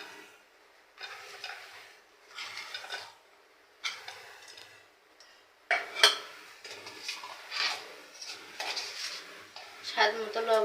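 Chopped onion and torn green chillies tipped into a frying pan, with clinks of utensil on metal, stirring scrapes and a rising sizzle in irregular bursts, close and moderately loud.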